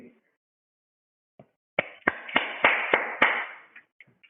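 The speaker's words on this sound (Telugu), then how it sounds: "అందరూ చప్పట్లు కొట్టండి." A church congregation claps hands in a short burst of about seven sharp claps in a quick rhythm, with a brief murmur of crowd noise between them, fairly close.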